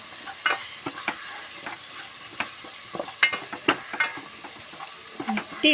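Beef varattu fries in a pan as a spatula stirs and scrapes through it, giving a low, continuous sizzle marked by irregular clacks and scraping strokes, close and clear with no voices.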